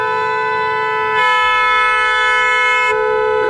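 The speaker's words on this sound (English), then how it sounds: "Jeffy, get off the horn, Jeffy." A car horn blares in one long continuous blast, loud and steady, briefly swelling in the middle, with no talking over it.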